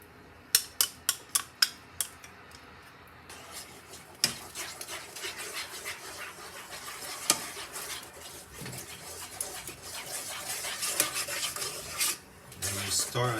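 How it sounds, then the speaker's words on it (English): BBQ goat meat is stirred in a cooking pot, with a quick run of sharp metallic scrapes at the start followed by continuous rasping, rubbing strokes of a utensil against the pot. "Stir until you see the color is changed."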